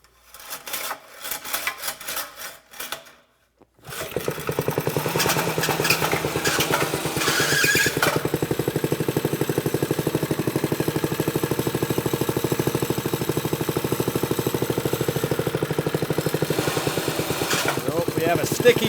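A restored minibike's small engine runs steadily after some initial sputters and a brief pause, a continuous loud buzzing idle that fills the rest of the clip up close.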